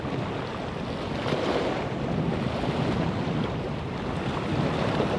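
Wind gusting along the Bristol Channel shore during a bass and ray fishing trip, a continuous loud rushing roar buffeting the microphone, mixed with surf, with no talking.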